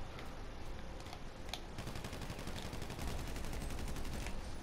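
Rapid automatic gunfire from a firefight in the video game GTA 5 Online, a steady crackle of shots that thickens into continuous bursts, moderately loud and with no talk over it.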